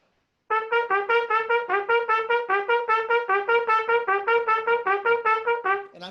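Staccato trumpet eighth notes for a brass band's third part, a steady run of short, evenly spaced detached notes, played alone, loud and close, for several seconds before stopping.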